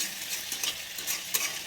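Vegetables sizzle and hiss steadily as they are stir-fried in a hot pan, with a spatula scraping now and then, close and continuous with no talking.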